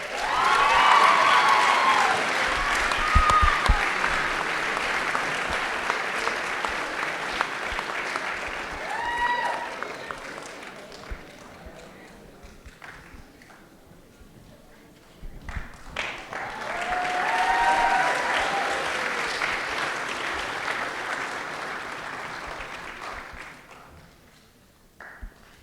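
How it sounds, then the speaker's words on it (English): Audience at a school board of education meeting applauding students, two sustained rounds of clapping with a brief lull between them, a voice heard faintly during the first round. "Once again, let's give a round of our applause to all our students."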